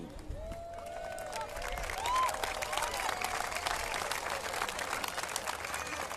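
An audience at the U.S. Army's 250th Birthday Twilight Tattoo applauds, a crowd of many hands clapping that swells and holds steady throughout, with a voice speaking over it at the start.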